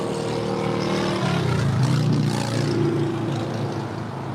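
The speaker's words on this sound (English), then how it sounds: "And that is Speedbird 28 Foxtrot going back to London Heathrow. It's a 777-300ER." British Airways Boeing 777-300ER departing LAX for London Heathrow, a steady distant engine roar with a rising whine that swells midway and then eases.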